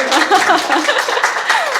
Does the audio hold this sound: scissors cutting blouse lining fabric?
no